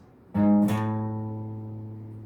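Two guitar notes plucked in quick succession, the second ringing out and slowly fading.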